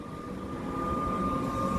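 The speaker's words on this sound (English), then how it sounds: "There we have a Frankston train" A Frankston metro train passing through Caulfield Station, a steady low rumble with a sustained high whine over it, growing slightly louder as it goes by.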